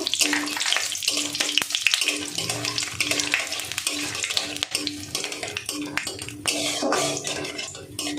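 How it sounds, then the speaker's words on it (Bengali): Whole spices crackle and sizzle in hot mustard oil up close, with bursts of spattering and occasional utensil scrapes, loud and continuous throughout. "এবার গোটা গরম মশলাগুলো ফোড়নে দিয়ে দেবো, একটু ভাজা ভাজা করে নেব"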